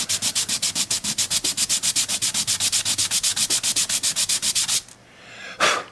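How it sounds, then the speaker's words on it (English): Sandpaper rubs back and forth over a violin part in fast, steady strokes, about thirty close, even passes, then a pause and one last lighter swipe. "And I know the purists don't use sandpaper. I get it, but I do."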